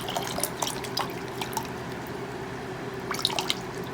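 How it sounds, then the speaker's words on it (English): Water poured through the roots of a potted Vandopsis orchid trickles and drips steadily, close and soft, with small splashes punctuating a continuous gentle flow. "pour the water through"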